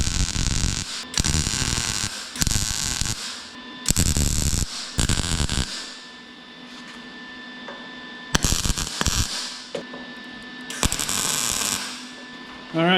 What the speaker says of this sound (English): and then I will weld the nut to the washer.